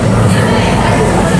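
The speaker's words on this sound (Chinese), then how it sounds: "上地铁了" Shanghai metro train running, with a steady loud rumble and rattle filling the car throughout, and faint voices mixed into the din.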